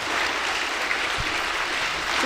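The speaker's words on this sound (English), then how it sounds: "applause please." Audience applause at a youth watershed conservation competition final in Colorado, a steady sustained wash of many hands clapping in a hall, moderately loud and even throughout with no talk over it.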